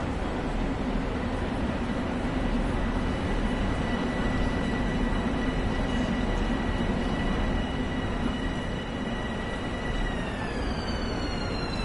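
A train pulls in within the Train Sim World simulator, a steady loud rumble of wheels and carriage noise with high whining tones, rising in pitch near the end as it arrives.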